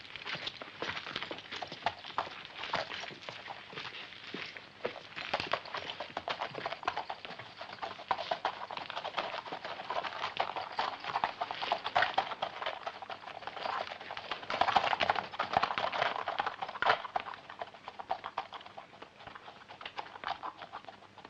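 Horses' hooves clip-clop steadily and densely on a road in a western film, a continuous rapid patter of many hoofbeats, fairly close, with no talking.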